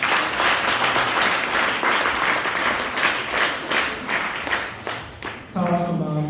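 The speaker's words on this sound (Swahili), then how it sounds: "Tupigie makofi jamani." Loud, sustained audience applause fills a parish youth seminar hall, then fades as a voice begins speaking near the end.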